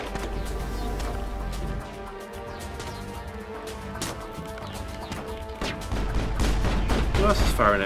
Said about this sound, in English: Who else is firing at me?